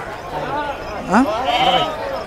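A sheep bleats twice, a wavering nasal cry rising over a busy background of murmuring voices and farmyard noise, at a weekly sheep and lamb market in Guduru.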